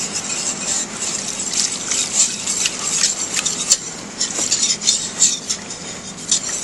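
A pot of veloute sauce being stirred as roux and broth combine, the spoon scraping and clinking steadily against the metal with soft liquid swirls, close and continuous with no voices.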